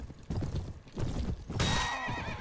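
Horse in the video game Mount & Blade: Warband (Prophesy of Pendor mod): a few dull hoof clip-clops, then a loud, shrill whinny rising over them near the end.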